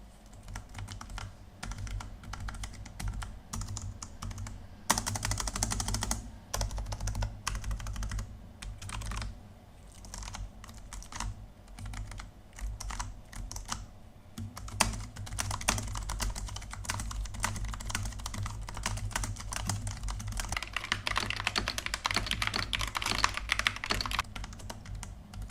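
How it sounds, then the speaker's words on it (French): Continuous typing on a Corsair K100 AIR Wireless mechanical keyboard, clacky keystrokes in quick irregular bursts, close up with no voices. "voilà un peu pour la petite démonstration de frappe"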